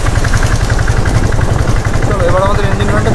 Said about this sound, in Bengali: চলো এবার আমাদের ইঞ্জিন ভ্যানটা ছেড়ে দিলাম